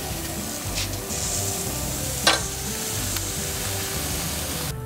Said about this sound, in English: You always want to put it so you hear that sizzling sound.